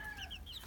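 Soft, close chicken clucking, a few short chirpy calls over steady low background rumble.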